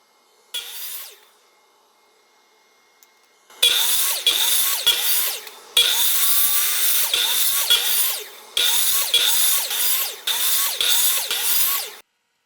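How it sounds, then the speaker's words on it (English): A power tool cuts small wooden pentagon bumper pieces for a marble Plinko board. It comes in loud, close bursts with repeated short whining cuts and brief pauses between them, after a single short burst at the start. "I cut out small uniform pentagon shapes to use as the bumpers on the board."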